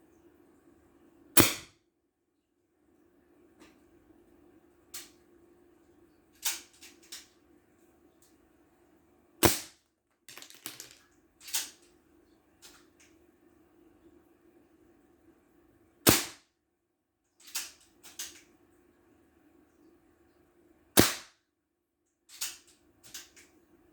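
An Umarex HDS68 air pistol is fired indoors in an apartment, giving sharp, isolated snapping cracks spaced several seconds apart, about nine shots with some faint handling clicks between, over a quiet room hum.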